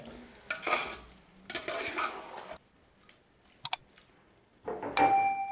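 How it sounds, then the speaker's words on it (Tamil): Beef being stirred into masala for a beef biryani in a pot, with bursts of scraping and stirring, a quiet pause, a couple of sharp metallic clinks, then louder stirring at the end. "இந்த மசாலாலெல்லாம் படுற மாதிரி நல்லா அதை கிளறி விட்டுக்குங்க"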